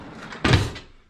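A single kitchen drawer in a penthouse apartment in Antwerp slides open with a short, close sliding thump that fades out quickly.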